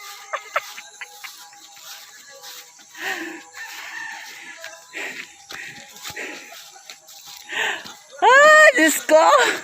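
A rooster crows loudly and close at the end of the clip, after quieter rustling, clucking and a person talking in an outdoor rural setting.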